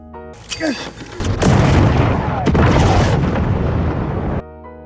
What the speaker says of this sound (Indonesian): Sedangkan Jenderal Strickland yang menyadari ajalnya sudah dekat segera melakukan bom bunuh diri.